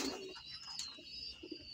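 A pet pigeon coos softly, a few low, rounded calls close by against faint background noise.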